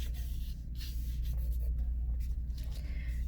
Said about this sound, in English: with your drawing pencils, you're going to draw that center line